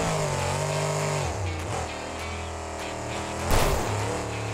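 Monster truck engine revs up and settles in cycles, the pitch climbing and falling, then a sharp louder surge near the end as it makes a small jump; no talking.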